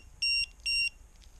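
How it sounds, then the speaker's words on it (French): Small LiPo battery voltage alarm on an electric scooter build, sounding two short, shrill electronic beeps in quick succession, close and clear over a quiet background. "Les petites alarmes de batterie"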